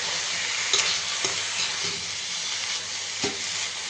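Freshly picked garden greens fry in a pan with a dense, continuous sizzle, close and even, broken by a few soft clicks of stirring.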